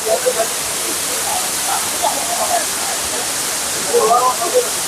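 Courtallam waterfall at night, a loud continuous roar of falling and splashing water, with faint voices in the background.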